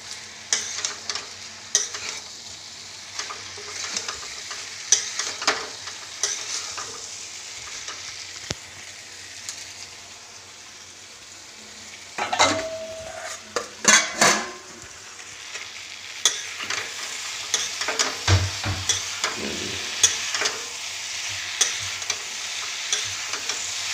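Potato, pointed gourd and soybean vegetables stir-fried together in a pan, a continuous moderate sizzle with intermittent spatula scrapes and clatters, busier in the second half.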